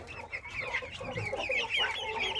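Chickens and broiler chicks clucking and chattering inside a warm coop on a cold day, a steady busy murmur of overlapping clucks, moderately close.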